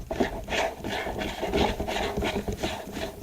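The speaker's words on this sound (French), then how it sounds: "Nous avons un tube qu'on va visser dessus." A plastic tube screwed onto the base of an Oase Aquaskim pond skimmer, giving steady close rubbing, grinding scrapes in repeated turning strokes without any speech.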